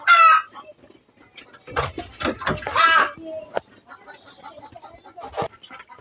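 Chickens clucking near a backyard coop and pigeon nests at feeding time midday, several short bursts of squawks and clucks close by, with quieter gaps between and some background voices.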